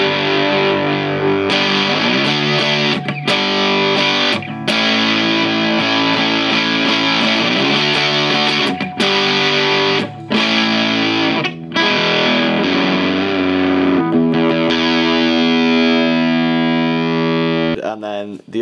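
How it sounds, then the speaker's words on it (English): A heavily distorted electric guitar through a circuit-bent Behringer UC100 distortion pedal at full setting plays sustained chords and riffs, loud and saturated, with brief gaps between phrases and no voices. "I think that actually sounds like quite a good distortion, it's very clear"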